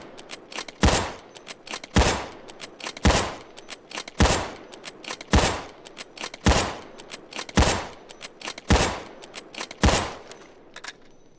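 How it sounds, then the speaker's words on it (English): Payday 2's MSR (Rattlesnake) sniper rifle fires about ten loud, sharp single shots at a steady pace of roughly one per second, each followed by a brief echoing decay, with no talk. "keep tap firing the R2 button so it can keep firing off shots at its go"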